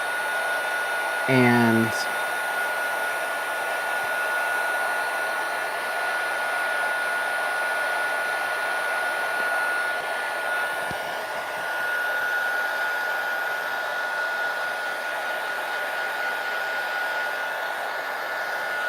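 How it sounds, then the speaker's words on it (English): A heat gun for heat embossing blows with a steady, loud whooshing hum for the whole stretch, with a brief click near the start and a short spoken word over it. "the magic of heat embossing. It truly is a magical thing."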